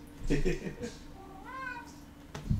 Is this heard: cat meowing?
yes